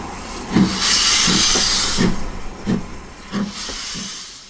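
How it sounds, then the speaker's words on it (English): Steam hisses loudly from a Norfolk & Western 611 mainline steam locomotive at the Strasburg Rail Road, a broad sustained rush with several short chuffing pulses repeating at a steady rhythm, close by. "People are very familiar with Norfolk and Western 611 as a mainline steam locomotive"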